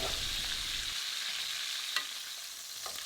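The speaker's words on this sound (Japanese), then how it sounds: "皮面がしっかり焼けたので、今度内側の面をきっちり焼いていきます。" Chicken pieces for a fricassee sear in a pan with a soft, continuous sizzle that stays fairly faint throughout, with a few light clicks from stirring or turning.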